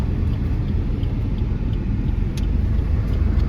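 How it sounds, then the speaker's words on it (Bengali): A Maruti Suzuki Celerio on a test drive gives a steady, loud low rumble of engine and road noise from inside the car, continuous throughout with no speech. "এটা সেলেরিও, যেটা টেস্ট ড্রাইভ নিচ্ছে দাদা এখন।"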